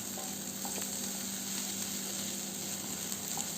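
Scrambled egg and masala being stirred into leftover idiyappam in a hot pan, a steady soft sizzle with faint scraping, no voices.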